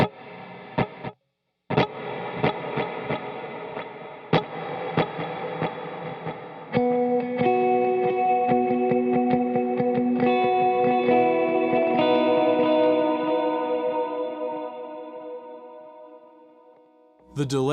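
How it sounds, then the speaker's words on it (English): Electric guitar picks out notes that repeat as echoes and smear into a swelling reverb wash, building into a sustained shimmering pad that slowly fades. "the delay takes your pick attack, and then it repeats it, and then it feeds it into the reverb"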